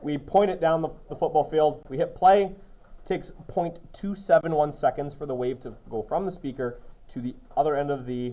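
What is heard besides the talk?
No everyday noises stand out.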